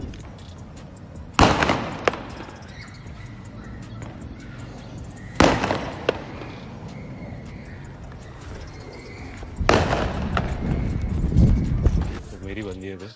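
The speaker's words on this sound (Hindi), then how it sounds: "ड्रोन को भगाने के लिए पटाखे जला देता है" Firecrackers set off to chase away a drone, three sharp loud bangs spaced several seconds apart, each with a short crackling tail, over a steady background.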